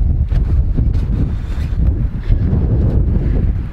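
Strong wind buffets a microphone outdoors, a loud, continuous low rumbling roar with gusty surges and no clear speech.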